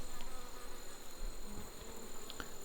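Honeybees buzz steadily and densely around an open hive during an inspection done without a smoker, close and continuous, with occasional individual bees droning past.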